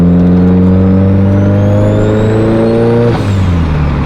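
A loud turbocharged car engine with an anti-surge T51R-style turbo housing revving steadily upward with a rising turbo whine, then the pitch drops as the throttle releases.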